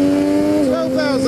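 Triumph Street Triple RX motorcycle engine revving hard and upshifting with a quick shifter, the steady high engine tone dipping briefly at the shift then climbing again, loud and close.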